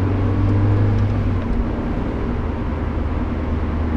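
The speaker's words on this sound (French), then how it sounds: "On se rend compte du niveau sonore de la voiture." Mazda MX-5 NB with a 1.6-litre engine driving with the roof down, a steady low engine drone and road and wind rumble, constant and close, no talking.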